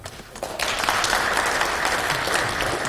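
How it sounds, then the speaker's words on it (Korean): Audience applause after a Korean academic talk on increasing the number of Supreme Court justices, starting quiet and swelling into steady, dense clapping from a roomful of listeners for the rest of the clip. "다시 한번 감사의 박수 부탁드리겠습니다."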